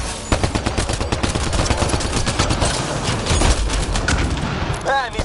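Rapid automatic gunfire from a Mass Effect Andromeda firefight, a dense, loud stream of shots close up with explosions mixed in and a brief voice near the end.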